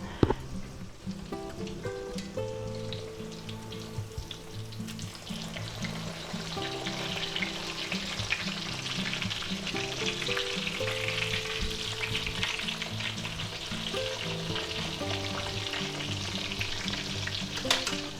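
Thin breaded beef milanesa cutlets sizzle in a pan with steady, crackling frying that continues close up for the whole stretch, with a low hum and occasional faint clinks.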